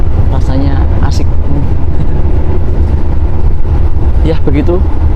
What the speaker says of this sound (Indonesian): perjalanan singkat aja naik kereta api Taksaka dengan lokomotif CC20647